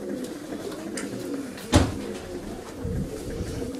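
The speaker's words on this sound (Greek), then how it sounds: "Και θα κλείσουμε με αυτό το πολύ ωραίο περιστέρι εδώ." A pigeon gives low, soft coos close by, a few muffled murmuring calls with a brief sharp knock partway through.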